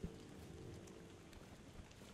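Rain falls steadily in the video game Tainted Grail: The Fall of Avalon, a faint, even hiss of drops with no other sounds over it.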